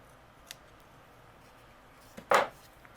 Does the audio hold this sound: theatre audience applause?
no